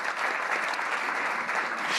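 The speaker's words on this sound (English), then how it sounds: "I think it's important that we give Gina another big round of applause if we can." Audience applause at a Climate Week 2024 livestream event, a dense steady clapping from a crowd that holds at an even level throughout, with no speech over it.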